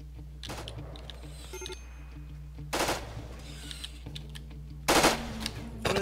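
Gunfire from the video game RimWorld breaks out in a few sharp bursts over a steady low background hum, with faint clicking between the volleys.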